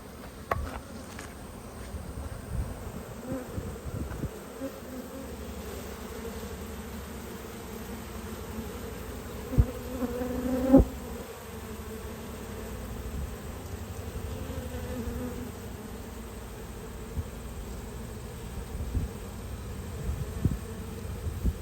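Honey bees buzz steadily throughout a backyard hive inspection, with a dense, continuous drone close by and occasional faint knocks and rustles from handling the frames.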